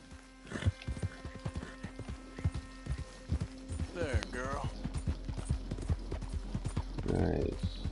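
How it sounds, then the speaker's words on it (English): A horse's hooves clip-clop in a steady walking rhythm in the video game Red Dead Redemption 2, close and clear, with a brief neigh and someone talking over it. "Oh, this is the best horse right here"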